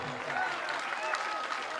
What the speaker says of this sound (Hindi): अब जिसको ताली बजाना है बजा लो।